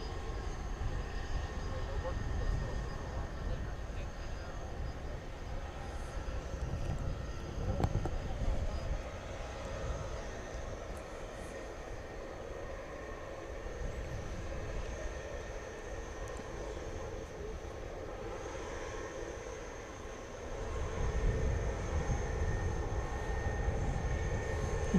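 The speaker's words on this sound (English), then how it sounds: "here comes the A300, and if this is going to Chicago Rockford, we should be seeing it amble over to 18 left for takeoff" An Airbus A300 taxis toward the runway at a large airport at night, a steady distant engine rumble and whine rising near the end, under intermittent talk.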